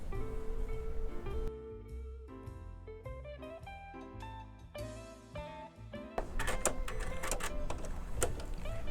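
A sewing machine stitches chained quilt block pieces for a whirlybird block, a steady close mechanical whir that pauses and restarts in several bursts, with no voices.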